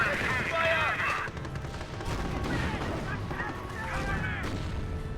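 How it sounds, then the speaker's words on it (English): Gunfire hitting a heavy Panzer in Company of Heroes, a dense stretch of overlapping shots and booming impacts mixed with the clatter of metal, sustained and fairly loud, with a voice talking over it. "Heavy Panzer taking enemy fire!"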